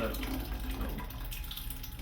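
Water runs steadily from a tap while homemade sake is being prepared, a continuous splashing hiss that lasts the whole moment, with a voice talking over it.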